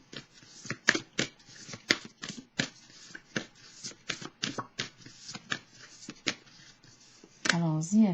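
Playing cards are shuffled and handled at close range, giving a rapid series of crisp riffling snaps that end in a brief rustle, while a voice talks intermittently over them.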